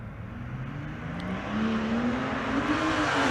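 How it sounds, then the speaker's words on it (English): A Mercedes V12 twin-turbo race car at a drag strip, its engine droning steadily and gradually climbing in pitch as it pulls away, moderately loud and at some distance, with no talk. "the Mercedes V12 twin turbo"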